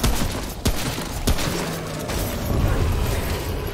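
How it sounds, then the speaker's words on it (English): Rapid gunfire aimed at a root creature in the game Remnant: From the Ashes, a sustained fusillade of loud shots with a few sharper cracks standing out, close and dense throughout. "I guess I'm shooting this thing then"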